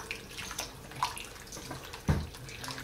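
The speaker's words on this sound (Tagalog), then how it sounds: "So I just wash my hand." Hands are rinsed under a running kitchen tap while chicken is prepared for Filipino-style barbecue, a steady wash of water that runs throughout, with a louder splash near the end and no talking.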